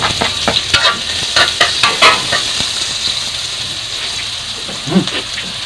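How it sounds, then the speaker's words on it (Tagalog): Garlic sautéing in a hot pan for a Filipino bamboo shoot dish, sizzling steadily with repeated scraping and stirring strokes close by, a brief louder burst near the end. "igigisa natin yung bawang"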